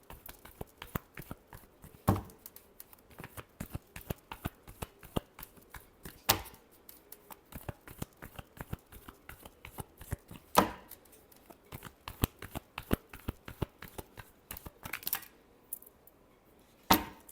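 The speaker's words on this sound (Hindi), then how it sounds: "Last shuffle." Tarot cards are shuffled by hand in quick, soft, papery riffles and taps, repeating rapidly with several louder slaps, close and quiet, with no one talking.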